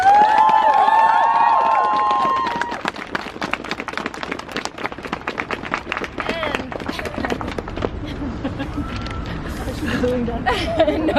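Crowd at a street demonstration for abortion rights, with a whistle-like tone early on, then dense clapping and cheering mixed with chatter and shouts across the whole stretch, loud and sustained, with voices still rising near the end.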